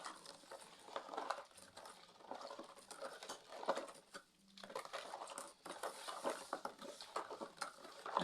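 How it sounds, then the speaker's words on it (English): Homemade liquid soap being stirred by hand in a container, a steady soft patter of sloshing and scraping with a few light clinks, continuous and close, with no talking. "I'm just mixing it very well"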